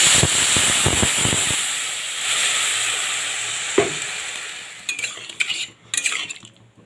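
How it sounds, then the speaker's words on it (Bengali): Water is poured into a hot pan of fried potatoes seasoned with salt and turmeric. A loud, steady hiss and steam sizzle follow, then a few sharp clinks and scrapes of a utensil against the pan. "আর সামান্য একটু হলুদ দিয়ে দিচ্ছি এবারে জল দিয়ে দিচ্ছি"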